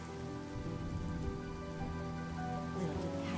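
Steady rain falls in a Honkai: Star Rail game scene, a dense, even wash of patter that runs on without a break, alone and fairly quiet, over a low tonal game hum.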